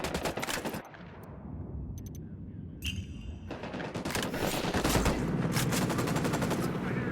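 Bursts of automatic gunfire in the tactical shooter Ghost Recon Wildlands, a rapid rattle that drops off briefly, then resumes as a dense, sustained volley of shots building louder toward the end.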